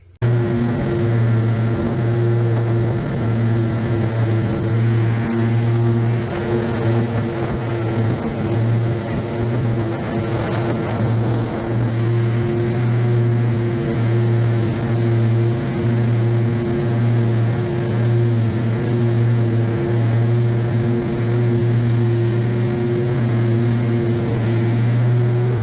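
A John Deere E160 riding mower runs steadily and loudly nearby, its engine holding a constant droning hum for the whole stretch with no talk.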